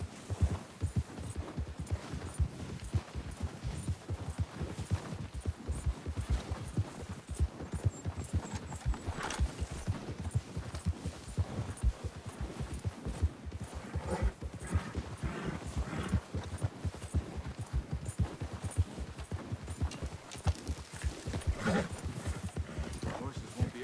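Horses' hooves clip-clop in a steady rhythm through Red Dead Redemption 2, close and continuous, with an occasional whinny and characters talking over the hoofbeats.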